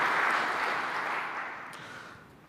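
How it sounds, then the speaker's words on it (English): An audience at a Citrix Synergy conference session claps for a presenter, the applause strongest at first and then thinning and fading out over a couple of seconds. "give Chris a round of applause"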